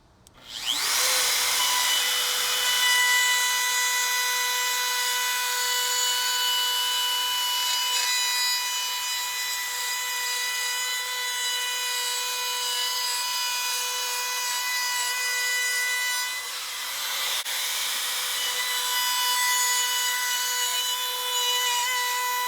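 A drill bit cuts shallow grooves about a quarter inch deep into wood for a bat house, with a loud, steady high-pitched whine and grinding rasp held for about twenty seconds and a brief dip partway through.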